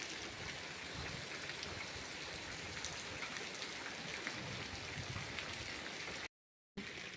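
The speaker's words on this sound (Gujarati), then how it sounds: "મોટે સાટે વરસે છે." Dense, heavy rain falls over flooded farm fields in an unbroken broadband hiss, steady and enveloping, with no one talking.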